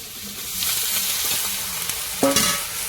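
Raw tomatoes fry in a hot pan for a fish curry with potato and eggplant, giving a steady close sizzle broken by scraping stirs and a louder clatter of the spoon near the end.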